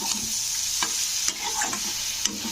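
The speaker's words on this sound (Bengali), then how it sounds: "তো দেখো সর্ষে বাটাটা আমি একটু কষে নিলাম এই সবজিগুলোর মধ্যে" Mustard paste stir-fried with vegetables and greens in a pan, a steady sizzle broken by repeated clinking, scraping strokes of the spoon, close and alone with no talk.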